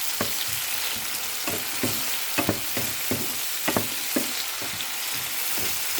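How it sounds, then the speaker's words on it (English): Garlic, onion and tomatoes sauté in hot vegetable oil in a pan, giving a steady close sizzle broken by repeated light scraping and stirring clatter, with no voices. "In heat pan with vegetable oil, sauté the garlic, onion, and tomatoes."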